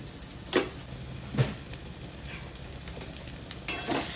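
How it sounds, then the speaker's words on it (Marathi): Red masala for a Marathi-style chicken curry gravy frying in oil over low heat, a soft steady sizzle broken by a few faint stirring scrapes, fairly quiet throughout. "फ्राय करून घ्यायचा मसाला. तेल सुटपर्यंत मसाला फ्राय करायचा मस्त मंद आचेवर"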